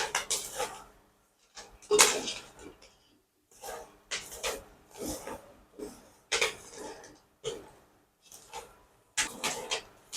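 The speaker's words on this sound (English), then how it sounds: "So I'll add in the sugar. And I'll give it a good mix." Sugar being stirred into popcorn in a cooking pot, heard as a series of short, close scraping and rattling strokes separated by brief pauses, with no talking.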